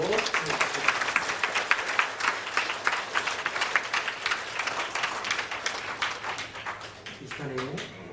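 A church congregation applauding at an ordination and thanksgiving service, dense sustained clapping from a crowd, fairly loud and steady, tapering near the end as a voice begins speaking.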